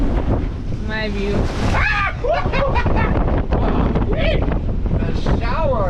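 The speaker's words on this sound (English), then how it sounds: "That was a wave that just crashed into the cockpit." Ocean wave crashing over a sailboat cockpit in 30-knot winds off Tenerife, a loud broad wash of water and wind buffeting the microphone throughout, with a voice talking over it.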